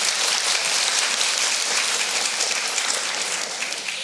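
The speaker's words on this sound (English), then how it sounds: "yes, that does deserve a clap." Steady, dense applause from an audience at a Cambridge debate on whether Labour has betrayed the working class, filling the space evenly for a few seconds with no talking over it.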